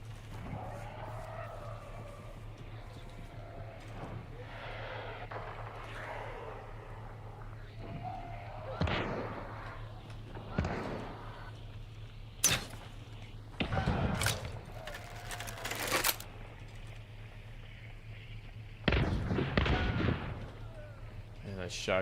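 Several sharp, loud gunshot blasts from a shotgun in the video game Steel Bolt Crossbone burst out at irregular intervals over a low steady hum and scattered game noise, with talk in the background.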